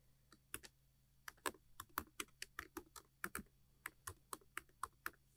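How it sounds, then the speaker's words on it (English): Typing on a computer keyboard, a quick irregular run of about two dozen close, crisp key clicks over a quiet background hum. "start typing in"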